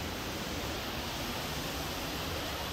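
A waterfall near Aso volcano in Kumamoto, Japan, one of the country's eight great falls, roars as a steady, dense broadband rush of falling water, unbroken and constant throughout.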